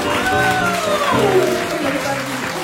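An audience at an Apei Thonon Chablais event applauds a woman being honoured, with a steady clatter of clapping. Loud voices cheer and call out over the clapping for most of the moment.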